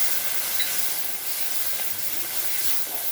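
Water goes into ginger paste in a hot pan for a bottle gourd curry, and a loud, steady sizzle and hiss follows up close, holding evenly throughout with no talking.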